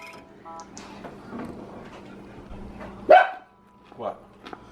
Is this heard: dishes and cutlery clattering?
no